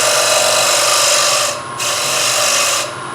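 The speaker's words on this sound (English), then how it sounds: "going to go back to my skew chisel because I can get that down into this corner" A skew chisel cuts into a wooden platter spinning on a lathe, a loud, close, continuous hissing scrape that dips briefly twice as the tool lifts and re-engages.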